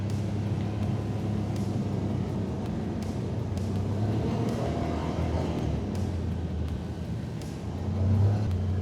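A Can-Am Traxter HD11 side-by-side drives over rocky, bumpy terrain; its engine drones steadily under scattered knocks and rattles, swelling louder near the end.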